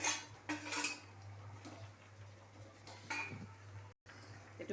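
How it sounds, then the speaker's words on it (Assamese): Sago khichdi with dal is stirred in a pot, producing clinking, scraping spoon-against-metal strokes in short bursts, fairly close and moderately quiet, with a brief cut near the end. "এইটো ভালদৰে লৰাই দিছোঁ"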